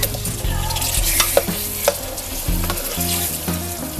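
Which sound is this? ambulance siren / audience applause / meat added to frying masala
meat added to frying masala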